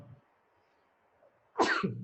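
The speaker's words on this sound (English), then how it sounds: "I think it's a cough, not a sneeze" A single sharp cough bursts out close by after near silence, short and explosive.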